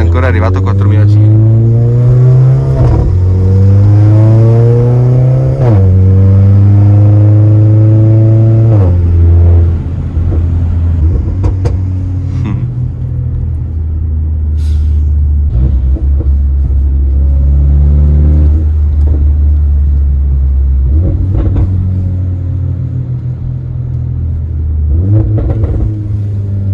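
Close-up, loud revving from a Mercedes A45 with an Armytrix exhaust: a series of rising pulls that fall back between blips, then a deep steady rumble with occasional pops and crackles toward the end.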